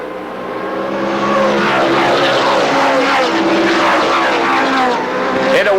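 A pack of stock cars roars past at Jennerstown Speedway just after the green flag, a dense, rising engine drone building and sweeping by at moderate distance with no voices.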